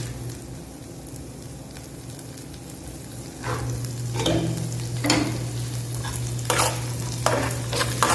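A dates laddu mixture is sautéed in a pan: a quiet low sizzle swells partway through, with repeated scraping stirs and knocks of a spoon against the pan, close up and without talk.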